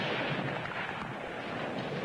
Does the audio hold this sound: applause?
no